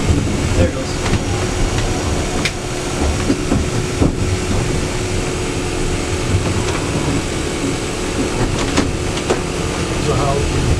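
The Disneyland Railroad's Lilly Belle 106, leaving Toontown depot, runs with a continuous rumbling rattle and a steady hum, with occasional clanks and knocks from the cars and people talking over it.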